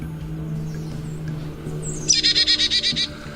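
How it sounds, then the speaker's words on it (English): A Carolina chickadee call played from a speaker in the woods, a quick series of about eight bright, evenly spaced chirping notes, heard clearly after a stretch of low background hum. "The Carolina chickadee call is a common call that you will hear as you're walking through the woods."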